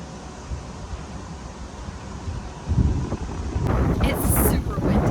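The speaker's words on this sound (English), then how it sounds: "It's super windy." Strong wind buffets a microphone outdoors at a garden beside an Airstream, a steady rumbling roar that swells and grows gustier in the second half, with brief rustling bursts.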